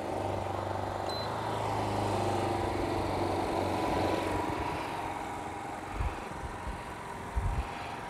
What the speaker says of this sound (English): They idle up and down together.